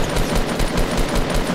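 Rapid automatic gunfire in the video game Fortnite, a steady burst of about ten evenly spaced, loud shots filling the whole moment with no talk over it.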